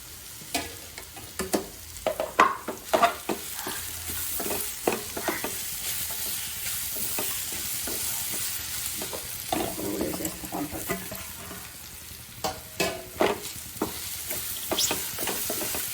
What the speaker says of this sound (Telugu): ఇదంతా ఇలా వేయించుకోవాలన్నమాట.